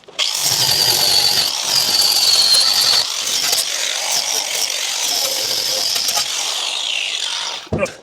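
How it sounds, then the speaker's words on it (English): An angle grinder with a flat disc grinding off spot welds on the floor of a Holden HQ coupe during a full floor replacement, a loud, close, sustained high-pitched whine that shifts in pitch under load before spinning down. "all those little spot welds in there are really sharp, so I didn't grind the other side off. I'll do that right now"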